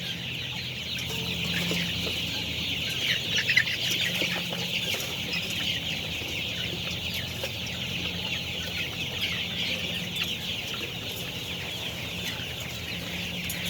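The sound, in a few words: chickens and chicks clucking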